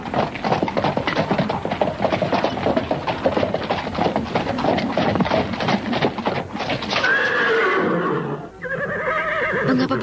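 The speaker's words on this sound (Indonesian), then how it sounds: "merangsang kuda sepasang itu berlari semakin kencang" A pair of horses pulls a cart at speed, with rapid, steady hoofbeats and rattling, then loud neighs and whinnies close by near the end.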